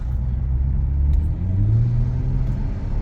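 A Kia Stinger with a low fuel pressure fault accelerates at full throttle, its engine giving a steady, heavy low rumble that rises slightly in pitch without much surge, close and continuous with no other sounds.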